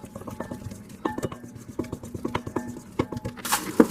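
Cuban bread dough ingredients get mixed quickly in a bowl, a rapid patter of spoon scrapes and soft clinks close up, ending in a brief louder rustle.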